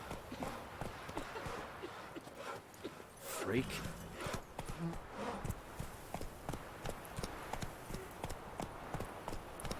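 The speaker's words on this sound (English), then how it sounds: "I've got to get used to using the horse." Horse hooves clip-clopping at a steady trot in The Witcher 3: Wild Hunt, close and continuous, with someone speaking briefly over the hoofbeats.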